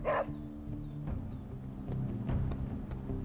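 A dog barks in Marvel's Midnight Suns, one short bark at the start, over a low, droning ambient game score with faint chirps and soft tapping sounds.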